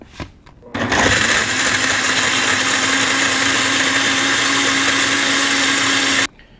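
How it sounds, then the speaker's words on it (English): A blender mixing tablets with water kicks on and whirs at a constant high-pitched drone for several seconds, loud and close, then shuts off abruptly. "We're gonna blend it up."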